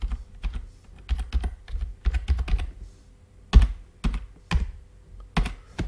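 Keys on a computer keyboard's numeric keypad are pressed in irregular bursts of crisp clicks and thunks, close and moderately loud, with short pauses between clusters.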